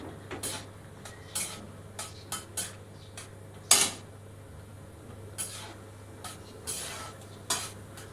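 Dry fruits frying in hot ghee with cracked cardamom pods in a pan, heard as quiet sizzling under a series of sharp metallic clinks and scrapes from a spoon stirring against the pan.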